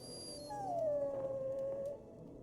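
A video game dog lets out a single drawn-out whimpering howl that slides downward and trails off after about a second and a half, over faint background ambience.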